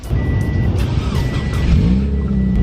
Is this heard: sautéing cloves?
no